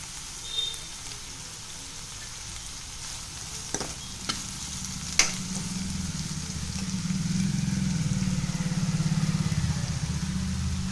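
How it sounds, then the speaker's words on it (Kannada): Onion and tomato fry in a pan for masala bread, a steady close sizzle that swells louder over the second half, broken by a few sharp clicks of a utensil against the pan. "ಇದ್ರ ಜೊತೆಗೆ ಈಗ ಟೊಮೆಟೊ ಕೂಡ ಹಾಕ್ಕೊಂಡು ಇದು ಕೂಡ ಫ್ರೈ ಮಾಡ್ಕೊಳ್ಳೋಣ"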